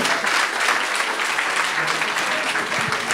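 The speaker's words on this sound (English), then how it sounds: "let's have another round of applause for all of our wonderful speakers" Sustained, loud applause fills the room from an audience at a speaking event honoring its speakers, a dense continuous roar of many hands with faint voices beneath.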